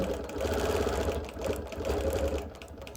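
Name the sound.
sewing machine quilting around an applique block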